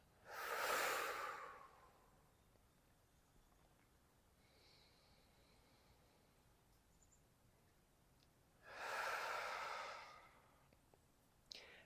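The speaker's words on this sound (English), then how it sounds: "We're going to take 5 deep breaths here." Two slow, deep breaths taken during a voice-preparation breathing exercise, each a long soft airy rush lasting over a second, about eight seconds apart, close and quiet with near silence between them.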